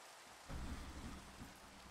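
Rain falling in a survival-crafting video game, a steady wash of rain with a deep thunder rumble rolling in partway through and fading slowly, no voices.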